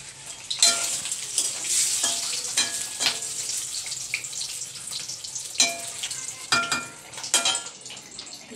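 Eggs frying in a home kitchen pan, a soft sizzle broken by repeated stirring scrapes and utensil clicks at irregular intervals, close but fairly quiet.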